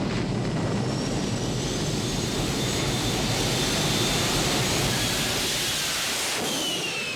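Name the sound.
jet car racing down the desert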